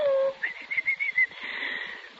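Caged birds in an old radio drama give a low cooing note, then a run of bright whistled chirps repeated in quick succession, and end with a softer sustained warble, close and clear with no talk.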